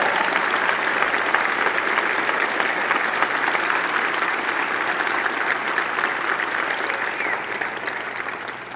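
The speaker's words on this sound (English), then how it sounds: "We're going to give you a round of applause" A hall of fame induction audience gives a coach a sustained round of applause, dense steady clapping that fills the room for the whole stretch and thins slightly toward the end, with no talking over it.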